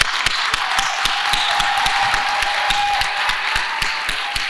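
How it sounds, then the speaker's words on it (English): A hall audience at a Grebel convocation gives undergraduates a warm round of applause, steady and sustained clapping with a few sharp individual claps standing out near the microphone. "all of us in here give them a warm and hearty round of applause"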